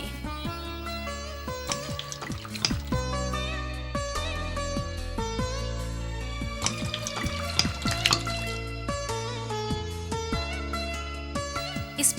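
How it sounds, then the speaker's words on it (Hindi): Hot water poured steadily from a container onto sanitary pad layers, a continuous close splashing trickle with gurgling bursts and no talking. "ये है गर्म पानी।"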